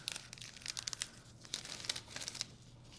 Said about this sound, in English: we're gonna take one of those little plastic bags